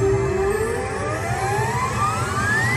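Cash Machine Gold slot machine making loud, continuous electronic noise, with a steadily rising sweeping tone over a busy bed of jingling sound for about three seconds, no talking.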